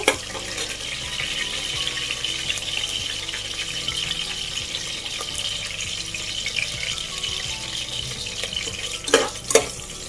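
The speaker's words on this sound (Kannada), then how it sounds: "ಈರುಳ್ಳಿ ಚೆನ್ನಾಗಿ ಫ್ರೈ ಆಗಿದೆ" Onions fry in a pan as the base for a wedding-style chicken dry fry, giving a steady close sizzle, with a couple of sharp utensil knocks near the end.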